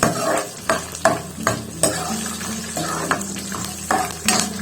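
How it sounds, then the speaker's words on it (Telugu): Peanuts and green chillies are stirred in a hot pan, with repeated scraping strokes and clinks of a spoon in an uneven rhythm over a low sizzle, close and fairly loud. "పల్లీలు, కొద్దిగా పచ్చిమిర్చి, వేసి మంచి కలుపుకోవాలి"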